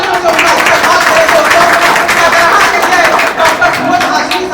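An audience gives loud, sustained applause at a charitable educational trust meeting to welcome Dr. Firoz Hashmi. Dense clapping fills the whole stretch at an even intensity, with faint voices mixed in underneath.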